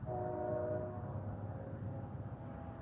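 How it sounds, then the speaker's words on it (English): A train horn sounds briefly at first, then fades into a steady low rumble of the train rolling along the tracks. "I hear a train"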